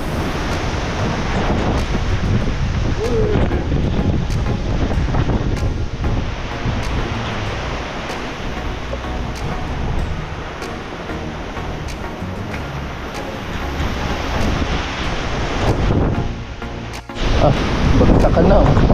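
Typhoon Uwan drives strong wind and pounding surf on Burias Island, a constant loud roar with gusts buffeting the microphone and brief dips near the end.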